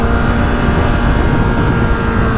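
A 2022 BMW S1000RR sport bike engine roars steadily and loudly up close, a dense continuous drone with no break or talk across the short stretch.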